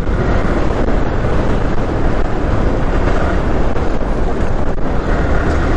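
Loud, steady roar of a Yamaha R15 motorcycle riding fast at a speed of 92, recorded on a GoPro Hero 7 Black, dominated by rushing wind buffeting the microphone, with no pauses.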